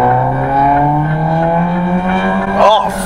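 A car with a loud aftermarket exhaust drones loudly, its pitch climbing steadily as it revs, with a raspy exhaust tone and a brief squeal near the end.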